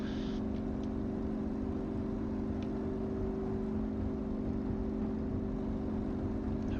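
A Yak-52 propeller plane's engine drones steadily at high throttle in the DCS flight simulator, a constant loud whirring roar with a faint hum and no talk.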